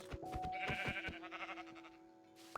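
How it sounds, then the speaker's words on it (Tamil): A Minecraft sheep gives a few clear, wavering bleats in the video game, fairly close and alone with no talk over it, followed by a quiet pause and a short click at the end. "இப்போதான் ஷீப் கிடைக்கலன்னு சொன்னால் அதுக்குள்ளே இங்கே ஒரு ஷீப் இருக்கு."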